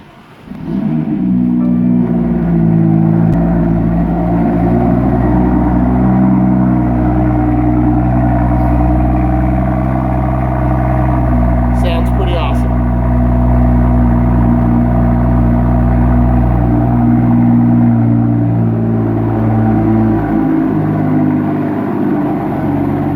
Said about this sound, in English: So let's give it a quick cold start.